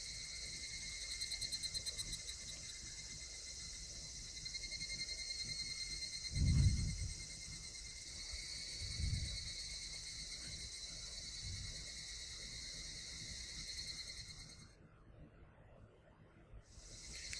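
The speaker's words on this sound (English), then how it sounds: "The cries of the cicadas accentuated the already lonely evening." Cicadas drone in a steady, high shrill chorus through a lonely evening, continuous and fairly loud for most of the stretch before cutting off abruptly near the end, with a few low thumps underneath.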